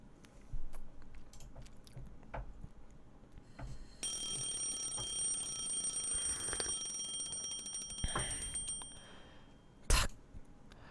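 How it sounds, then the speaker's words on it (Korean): An alarm clock rings with a bright, sustained electronic beeping that starts partway through and runs for several seconds before a sharp click cuts it off, set against quiet room noise. "반사적으로 자명종을 누른다."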